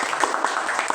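A classroom of teachers applauding together, a brief burst of steady, fairly soft clapping from a group of many hands.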